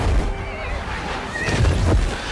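A horse neighs in The Return of the King film, a loud high whinny rising out of dense battle noise and rumble, with a short crash and squeal near the end.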